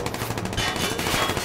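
Rapid gunfire from the video game Watch Dogs 2, a dense burst of repeated shots like an automatic weapon, steady and fairly loud for a second and a half with no talking.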